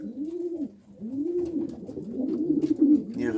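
In a loft, racing pigeons give repeated low cooing phrases, each rising and falling in a rounded swell, close and clear, with a few soft flutters near the end.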